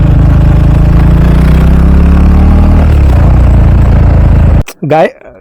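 A motorcycle engine in first gear runs loud and close, droning and revving for a beginner's wheelie before cutting off abruptly near the end, followed by a short burst of voice.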